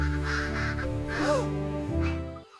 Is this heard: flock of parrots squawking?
yes